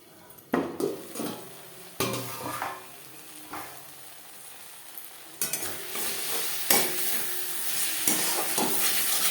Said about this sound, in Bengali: লো টু মিডিয়াম ফ্লেমে 3-4 মিনিট মশলা বেশ ভালো করে কষিয়ে নেব